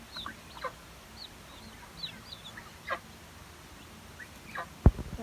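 Muscovy duck chicks about two weeks old, kept in a pen, give a series of soft, high peeping chirps scattered through the clip, with one sharper louder peep near the end over a low background hum.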